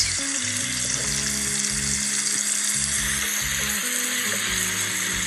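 Cardamom pods sizzle in hot oil in a pan while egg curry is cooked, a loud, steady frying hiss with low clunking tones from the pan beneath it.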